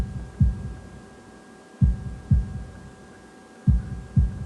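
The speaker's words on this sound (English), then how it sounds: "holding my breath in an attempt to hear my heartbeat" Game heartbeat effect in the visual novel Katawa Shoujo: loud, close, low thuds arriving in paired beats with long pauses between, over a faint steady hum.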